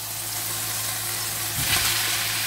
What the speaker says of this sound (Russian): Кладем капусту.